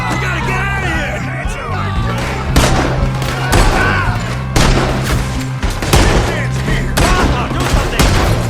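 Heavy gunfire in Red Dead Redemption 2 during a shootout after a poker game, loud booming shots arriving every second or so over a steady low backdrop, with shouting voices in between.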